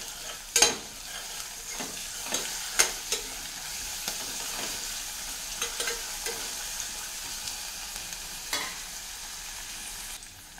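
Fenugreek leaves frying in a pan in a home kitchen are stirred with a soft continuous sizzle and scattered scraping knocks of the spoon against the pan, quiet and close, with no talking.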